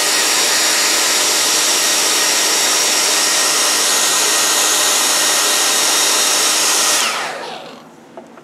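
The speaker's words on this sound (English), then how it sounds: "I'll use my hair dryer to" A hair dryer blows hot air onto a wood carving of a Native American figure in a buffalo robe, a loud steady whooshing roar for about seven seconds before it switches off and winds down.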